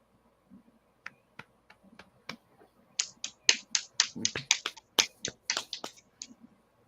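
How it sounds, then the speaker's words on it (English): A single hand claps and snaps close by, producing sharp, isolated clicks at first and then a quick, uneven run of louder snaps, alone in an otherwise quiet room. "I know for a fact you can't clap with one hand."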